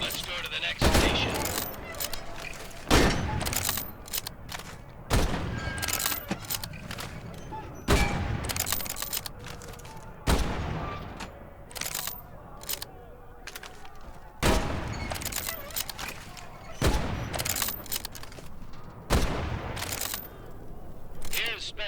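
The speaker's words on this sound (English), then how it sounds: "The K98 is a bolt-action rifle, so you reload by pulling and pushing the bolt after each shot." Shots from a K98 bolt-action rifle in a Medal of Honor: Above and Beyond training range: loud, sharp blasts fired one at a time at spaced intervals, each with a brief tail and bolt handling between shots, with talk nearby.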